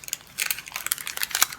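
Wax paper wrapping around a three-piece razor crinkles during an unboxing, a burst of close, crisp crackles and rustles arriving in quick irregular bursts, with no talking.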